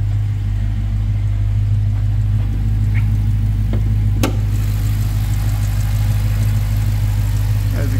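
A 2023 Dodge Challenger R/T Scat Pack idles inside a showroom with its hood open, a steady low rumble that holds for the whole stretch, with a few faint knocks and clicks on top.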